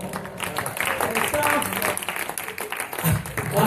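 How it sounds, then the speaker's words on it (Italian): An audience claps through a dense burst of applause at a live tribute show, loud and continuous, with a voice speaking over the clapping. "facciamo un altro applauso"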